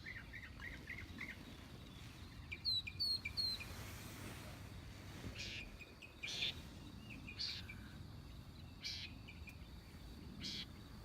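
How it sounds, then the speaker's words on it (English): Birds chatter in the morning at Inks Lake State Park, with faint scattered chirps and calls over a soft, steady bed of insect buzz. "The morning greeted us with chattering birds and an overcast sky."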